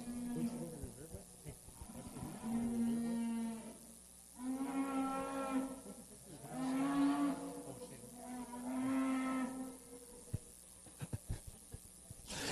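Cattle bellow in a series of long, loud moos at a Manitoba agricultural exhibition show ring, several calls a few seconds apart with crowd noise and clatter between them.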